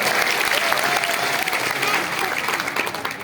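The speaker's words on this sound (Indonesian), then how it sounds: "Berikan tepuk tangan yang meriah untuk Tuhan." A church congregation at a Christmas sermon by Pastor Gilbert Lumoindong in a grand chapel bursts into loud, dense applause that fills the hall steadily throughout.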